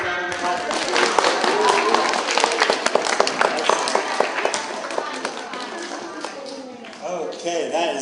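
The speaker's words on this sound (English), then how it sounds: "Give yourselves a round of applause." Students applauding in a school setting, a burst of brisk, uneven clapping from a small group close by that tapers off toward the end, with some voices and shuffling around it.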